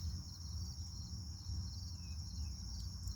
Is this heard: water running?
no